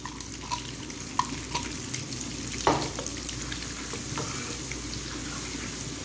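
Chopped garlic dropped into hot desi ghee and oil sizzles with a steady, soft crackling hiss and occasional sharper pops, faint and close, with no speech.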